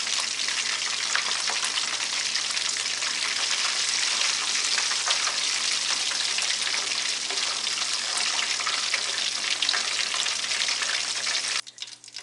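Chicken pieces fry in hot oil with a steady, loud, dense sizzle that runs unbroken for about twelve seconds, breaking up only at the very end.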